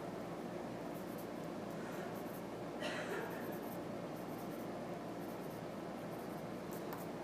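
A pencil scratches lines on paper while a self-portrait is sketched, a faint steady scraping texture with a few brief sharper strokes, close and quiet over low room hum.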